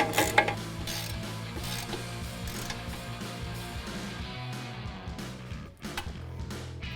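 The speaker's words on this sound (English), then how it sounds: "we'll go ahead and tighten those down using our 18mm socket" An 18mm socket on a ratchet tightens the brake hardware on a 2019–2023 Chevrolet Silverado or GMC Sierra 1500, giving quick repeated pawl clicks with light metal clatter, close and with no talk.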